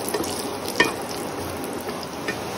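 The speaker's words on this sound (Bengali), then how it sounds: "ঘিয়ের মধ্যে কাজু বাদাম একটু হালকা করে ভেজে নেব। ঘিয়ের মধ্যে একটু কিশমিস দেব" Cashews and raisins frying in hot ghee in a wok, a steady soft crackling sizzle with a few light stirring taps, close and even throughout, with no voice.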